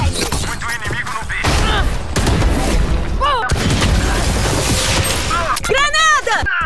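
Rapid gunfire bursts and booming blasts in a round of Valorant, dense and loud throughout with sharp bangs, an explosion near the start and whooshing ability effects, while players shout and talk over the action.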